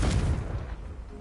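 A Confringo fire spell bursts in the Hogwarts Legacy video game, a dense low boom with crackling spread that peaks at the start and rumbles on steadily through the short moment.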